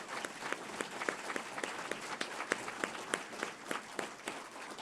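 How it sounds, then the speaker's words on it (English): Applause from an audience at a spring faculty and staff assembly at Fresno State, a steady wash of many hands clapping, with a few sharper individual claps standing out, heard without talk. "Let's give them a round of applause, please."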